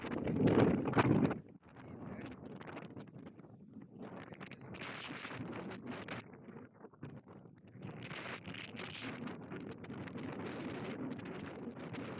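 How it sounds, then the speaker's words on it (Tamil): Strong wind buffeting the microphone outdoors near a railway station in Spain, loud rumbling gusts at first, then a steadier blustery roar rising and falling throughout, with no talking. "இங்க காத்து பயங்கரமா இருக்கு"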